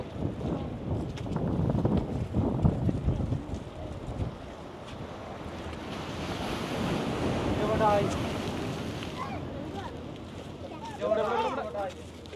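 Sea waves surge and wash against the sea wall at Azheekal beach in Kerala, a continuous rushing roar with strong wind buffeting the microphone, while voices talk intermittently over it.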